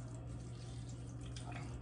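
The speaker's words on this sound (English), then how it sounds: "I'm removing the extra water, putting it in this plate." Excess water poured off canned tuna into a plate for tuna salad, a steady close trickle of running liquid lasting under two seconds with no talking.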